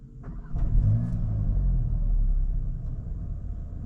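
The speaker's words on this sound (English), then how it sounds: "I'll now start the car, okay, and you'll see the headlights dance" A VW Golf GTI engine cranks briefly, catches with a rising rev, then settles into a steady low idle rumble, close and loud, with no voices.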